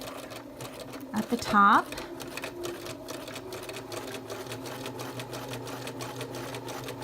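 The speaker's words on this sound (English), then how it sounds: "Okay, here we are at the machine. Again, I'm using that straight stitch, and I'm going to sew with a 1/2-inch seam allowance." A sewing machine runs a straight stitch seam with a 1/2-inch seam allowance, a rapid, even mechanical clatter close by that continues steadily after a brief louder burst near the start, with a voice speaking briefly.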